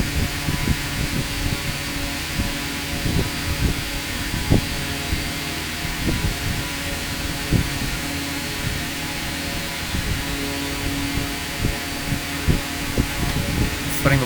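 A light propeller airplane's engine drones steadily during a night flight over the New York area in X-Plane 12, a constant hum with tonal bands and faint periodic clicks throughout.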